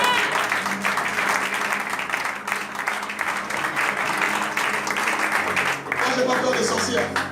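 Church congregation applauding during a sermon, a sustained dense wash of clapping from a large crowd with voices calling out over it throughout.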